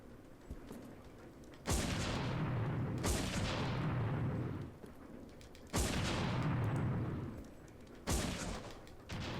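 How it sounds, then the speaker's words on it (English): A rocket launcher fires in the Resident Evil 0 video game, with four loud, sharp blasts each trailing into a long rumbling decay, spaced a couple of seconds apart and no talking. "I'll equip the rocket launcher for Billy"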